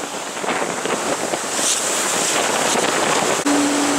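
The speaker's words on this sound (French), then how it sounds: "Le vent monte un peu." Strong wind roars steadily over open sea off Funchal, Madeira, with a broad rushing hiss and the wash of waves against a moving racing sailboat; no voices.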